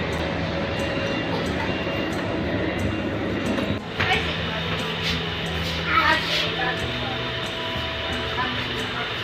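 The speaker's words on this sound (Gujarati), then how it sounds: "અમને જો પહેલી વાર ટ્રેનની મુસાફરી કરી રહ્યા છીએ" Steady low rumble of a moving train carriage, with rattles and clinks over the continuous hum of the ride.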